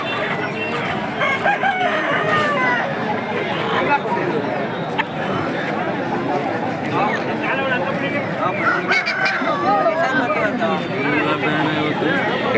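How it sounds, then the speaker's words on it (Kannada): Roosters crow again and again at a crowded Saturday chicken market in Akkirampura, Tumkur, loud and overlapping, with hens clucking and a steady babble of people talking all around. "ಕೋಳಿ ಸಂತೆ ಅಕ್ಕಿರಾಂಪುರ ಪ್ರತಿ ಶನಿವಾರ"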